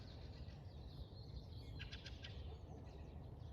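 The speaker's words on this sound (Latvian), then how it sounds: "putniņi čivina" Small birds chirp faintly in the morning outdoors, a brief cluster of high tweets over a steady low rumble of wind or distant background noise, with no voices.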